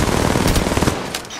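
Rapid automatic gunfire in a mobile shooter game, a dense loud stream of shots rattling continuously for about a second before thinning out.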